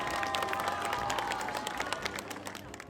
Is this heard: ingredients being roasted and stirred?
no